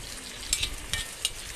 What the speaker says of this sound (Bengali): এখন এই পেঁয়াজ এবং রসুন কুচি ভালো করে নেড়েচেড়ে একটু হালকা ভেজে নেব